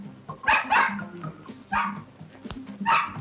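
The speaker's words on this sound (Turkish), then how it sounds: "Küçücük köpekten korkulur mu?" A small dog barks in rapid, sharp bursts, four or five close yips and barks spread over a few seconds with short gaps between.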